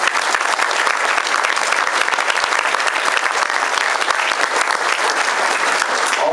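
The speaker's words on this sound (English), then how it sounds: "let's give him a round of applause" A crowd of listeners claps steadily in dense, loud applause that holds evenly for several seconds at a community gathering.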